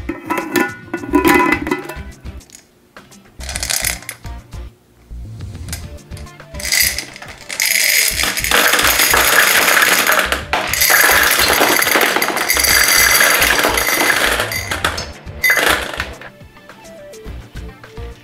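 Plastic clicks, rattles and twisting of a toy gumball machine being unscrewed, followed by a sustained cascade of gumballs pouring in, loud and close with no talk.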